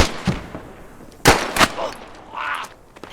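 FAMAS rifle fire in an online video game: a few short, sharp shots, with one louder crack in the middle, and other scattered game noises around them.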